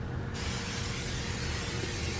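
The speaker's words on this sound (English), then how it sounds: "Y'all know I'm gonna spray them with my oil. I got my garlic herb oil" Garlic herb oil is sprayed from a bottle onto raw shrimp for a buttered shrimp dinner, a loud, steady close hiss running without a break.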